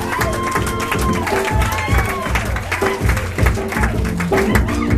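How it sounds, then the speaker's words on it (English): Comedy club audience applauding after a stand-up set, dense clapping and crowd noise with a host talking over it and rhythmic music underneath. "Keep that applause going."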